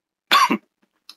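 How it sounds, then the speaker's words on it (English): A single loose, wet cough from someone recovering from a sinus infection, short and close, followed by silence and a faint small click. "Sorry, I've been coughing, recovering from a sinus infection"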